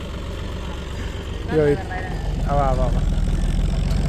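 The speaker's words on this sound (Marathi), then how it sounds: "आता आपण बी ट्रॅक्टरवर बसू मागे." A tractor engine idles with a steady low rumble throughout, growing slightly louder toward the end, while people talk nearby and a voice briefly calls out over it.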